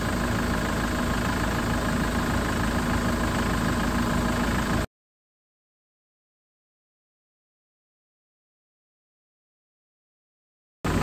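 The engine of a Ford Transit with a hot starting problem runs with an odd, uneven noise. It is loud and close for about five seconds, then cuts to silence, and resumes briefly at the very end.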